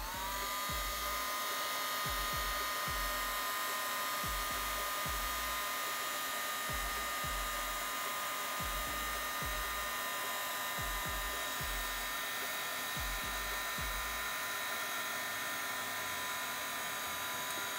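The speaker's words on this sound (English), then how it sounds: "I'm not sure if you can hear me over the heat gun" A heat gun on its lowest setting blows a steady, fairly quiet whirring hiss while drying embossing powder on paper, with small bumps and clicks from handling throughout.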